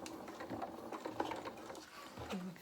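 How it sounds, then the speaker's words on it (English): Sewing machine stitching along piping on a dressing gown, a soft, quiet mechanical whirr with fast rhythmic needle clatter running continuously, briefly reversing. "When we get to the bottom, I'm just going to reverse a couple of stitches."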